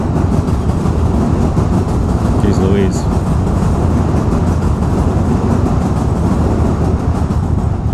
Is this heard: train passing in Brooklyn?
yes